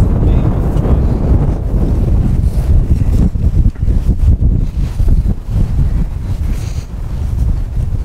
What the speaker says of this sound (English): That wind is now off the right, James.